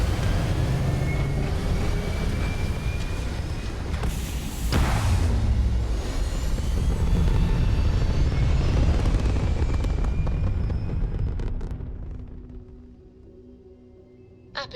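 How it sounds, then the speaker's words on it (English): Spaceship thrusters firing in the game Starfield, a loud sustained roaring rumble with a brief whooshing surge partway through, then fading steadily toward quiet at the end. "All thrusters firing."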